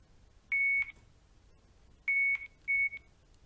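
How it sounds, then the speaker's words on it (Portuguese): Three clear electronic beeps from the receiver of a Daikin SkyAir air conditioner indoor unit during error-code self-diagnosis, two short tones close together, a pause, then a third, crisp and near in an otherwise quiet room. "O dígito que corresponder a 2 bips é referente ao código de erro."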